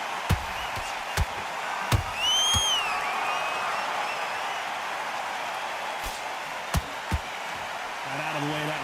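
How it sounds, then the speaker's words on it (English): Crowd at a boxing match forms a dense, continuous murmur with scattered sharp claps and thuds, fairly distant, with brief whistle-like tones above. "you can hear everybody in the crowd"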